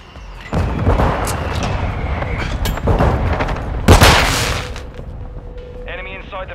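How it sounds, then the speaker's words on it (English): Mortar strike explosions in Call of Duty: Modern Warfare II crash in heavy booms around the player, with one sharp, loud blast standing out near the middle. Battlefield noise surrounds them, and a brief tonal radio-like chirp comes at the end. "Hostile mortar strike incoming."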